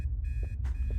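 Electronic beeping from a video game: repeated steady tonal pulses in a short, evenly spaced pattern, with brief soft thumps between them and a low hum underneath.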